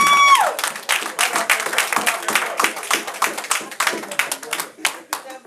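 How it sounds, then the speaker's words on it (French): Church congregation breaks into sustained applause, a dense wash of many hands clapping close by that keeps going throughout, with voices mixed in among the clapping. "Acclamons le Seigneur Jésus"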